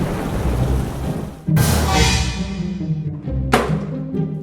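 Thunder cracks and rolls during a lightning storm, two sharp loud claps around the middle and later in the clip, each followed by a long rumbling decay over a steady background of rain.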